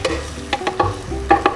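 Blended spice paste goes into hot cooking oil for a duck dish, giving a crackling sizzle with a few sharp bursts and stirring sounds, close and moderately loud, with no talk.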